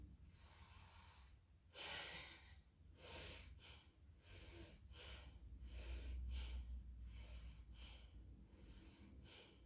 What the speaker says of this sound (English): starting with breathing in and quite forcibly out, and then we start breathing in